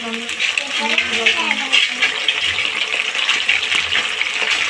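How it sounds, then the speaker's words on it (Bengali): Plain water poured into hot oil with potato chips frying, a continuous loud hissing sizzle and bubbling spatter throughout, with a faint voice in the background. "পানিটা দিয়ে দিচ্ছি।"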